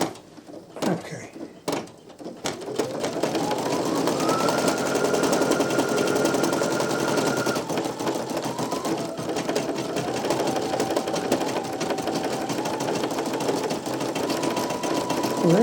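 Two Brother embroidery machines stitch the same design together, a loud, fast, steady mechanical whirring and clatter with shifting pitch as the needles run, preceded by a few sharp knocks.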